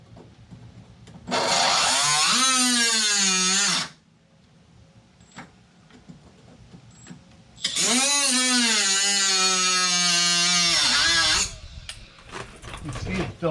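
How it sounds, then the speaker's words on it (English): An angle grinder cuts slots into the body metal of a Buick Skylark, two long, loud, close bursts of rising, screeching whine separated by a quiet pause. "what I'm going to do is grind some slots in here"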